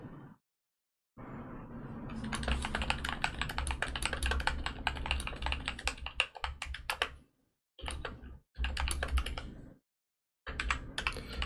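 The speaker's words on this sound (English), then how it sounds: "if I type in here right now" Fast typing on a computer keyboard, close and crisp, in bursts of rapid key clicks separated by short silent pauses.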